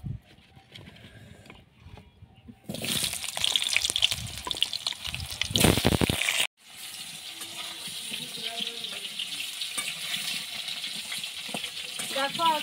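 Water gushes into a cooking pot in a home kitchen as a dish is prepared, a loud steady pour lasting a few seconds before a softer bubbling simmer continues, with faint talking.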